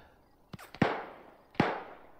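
Distant gunfire in a realism military combat-patrol game: one shot, a second pair of cracks, then a third report, each sharp with a decaying tail.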